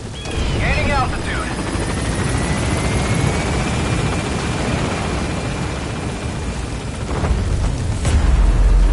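The Pequod helicopter lifts off in Metal Gear Solid V, a loud, steady rotor roar filling the scene, with a brief radio voice and a thin rising whine early on and a heavier rumble swelling at the end.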